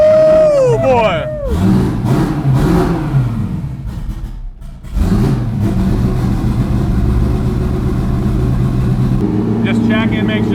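A cheap V8 with twin turbos, swapped into a Porsche 911, runs loud and close with rising revs and dips, then settles into an uneven rumbling idle while people talk over it.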